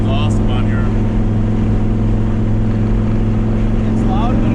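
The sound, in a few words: pickup truck exhaust while driving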